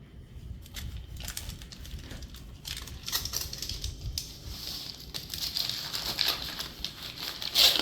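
Smoked brisket being unwrapped from foil and butcher paper, close-up crinkling and rustling in irregular bursts that grow busier and louder toward the end, with no talking.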